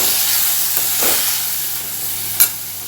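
Prawn masala sizzles and hisses in a hot pan as it is stirred, a steady loud frying noise broken by a few soft scraping strokes and a clink.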